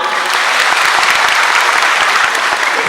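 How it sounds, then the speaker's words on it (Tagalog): Loud, dense clapping from a live comedy show audience in Singapore, continuous and even throughout without shouting. "No shouting. Just clap."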